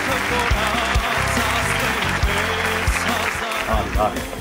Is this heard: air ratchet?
no